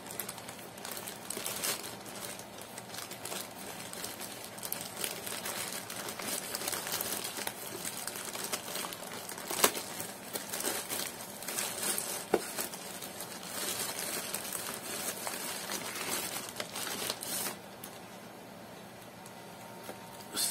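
Plastic wrapping on a package is cut and pulled open by hand, a steady close crinkling and rustling that runs throughout, with a few sharp snaps and a quieter stretch near the end.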